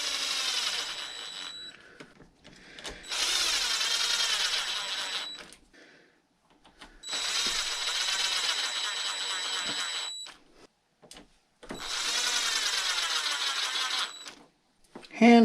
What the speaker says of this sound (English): Get these 4 socket head cap screws on.